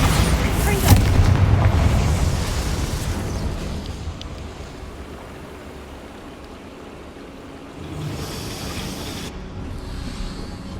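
A Bombarda spell explodes in the Hogwarts Legacy video game, a loud booming blast near the start that rumbles and fades over several seconds, with a second lighter burst of noise later and a voice speaking over parts of it.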